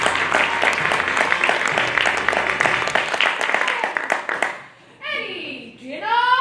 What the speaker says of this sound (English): a warm round of applause for tonight's guest artiste and London's leading male impersonator, Miss Alice Nutting